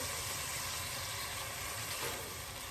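Rice and beans sofrito with ajicito and oregano brujo sautéing in a splash of beef broth in a large pot, giving a steady soft sizzle and hiss with no talking.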